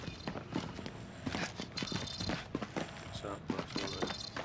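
Footsteps of a teammate in the Call of Duty Warzone video game tap in a quick, uneven run of soft thuds, mixed with game noise while a person talks over them throughout.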